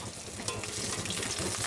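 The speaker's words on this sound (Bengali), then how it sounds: "তো মাছ ভাজা হয়ে গেল" Fish frying in hot oil in a home kitchen: a steady, dense sizzle with crackling spatters that runs close and even throughout, with no talking.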